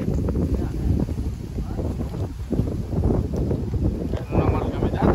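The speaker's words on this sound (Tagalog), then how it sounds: "lakas na mga hangin" Strong wind buffets the microphone outdoors, a steady loud roaring rush with gusts that swell and ease throughout, and voices are faintly mixed into the noise.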